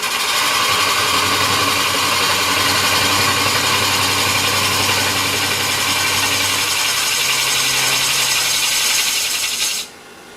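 A wood lathe with a Kobra deep hollowing tool carving chips from the inside of a spinning wooden form; a loud, continuous scraping whir close up for about ten seconds that stops abruptly at the end.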